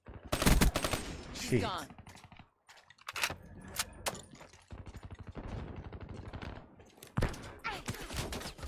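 Video game gunfire rattles in rapid bursts and single shots, loud and close, with a voice speaking between volleys.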